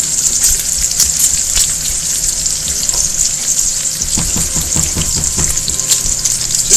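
Shredded potatoes fry in a pan with a loud, continuous hiss and sizzle, and clattering stirring scrapes join in during the second half.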